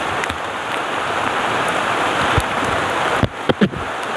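Heavy rain pours in a steady, loud, close hiss, with a few sharp knocks and thuds near the end.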